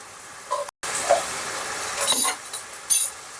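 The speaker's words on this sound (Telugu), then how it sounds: "స్టవ్ హై ఫ్లేమ్లో పెట్టుకొని బాగా ఫ్రై చేసుకోవాలి" Boneless chicken fries in a pan over a high flame for gongura chicken pickle, giving a soft steady sizzle with a few brief scraping stirs and clinks close by.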